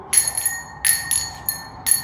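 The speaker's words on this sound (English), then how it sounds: "Friends, do you hear the chiming of bells?" Bright bells chime in quick repeated clusters of ringing strikes, each burst fading briefly before the next, loud and close with no talking.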